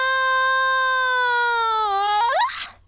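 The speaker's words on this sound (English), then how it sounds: "back here we have a part where the vocalist goes up and there's a small" In a mix, a sustained vocal note rises, with a small pitch effect audibly bending and wobbling it upward near the end before it cuts off, loud and alone with no talk.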